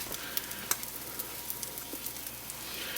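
French toast fries quietly in a pan, a soft continuous sizzle with faint crackles and pops scattered through it and no voices.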